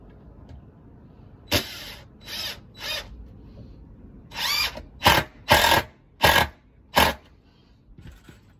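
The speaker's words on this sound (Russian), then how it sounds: "И прикручивается шурупчиком." A power screwdriver drives a screw into a glued wooden board: several short whirring bursts in quick succession, close and loud, separated by brief pauses over a quiet background.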